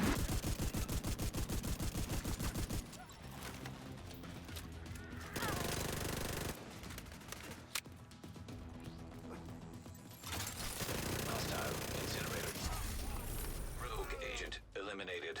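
Emeline's Guard SMG in The Division 2 video game firing long sustained bursts, a dense rapid rattle of shots with brief pauses, loud and close with speech at times.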